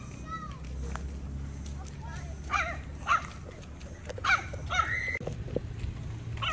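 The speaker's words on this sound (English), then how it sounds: "big dog, Barbie!" A big dog barking outdoors during a walk, several short barks and yips spaced through the stretch, moderately close under lively talk from people nearby.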